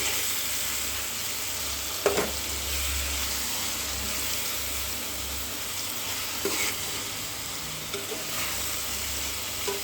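Green chili paste sizzling and frying in a hot pan, a steady, close hiss that runs throughout while being stirred, with a few sharp clicks and scrapes of the utensil along the way. No voices.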